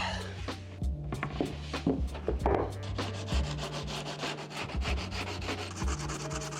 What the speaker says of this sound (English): I'm kind of like pulling the edge banding, like as I'm sanding